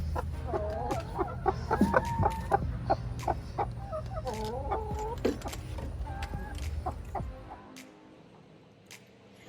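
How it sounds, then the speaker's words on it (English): A broody hen clucks repeatedly in a farmyard, her short, chattering calls close and moderately loud, fading off toward the end. "Always gotta move this broody hen."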